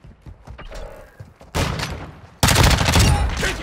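Heavy gunfire in the video game Modern Warfare 2 erupts in two loud stages, a dense burst and then an even louder sustained fusillade, rising over quieter game sounds.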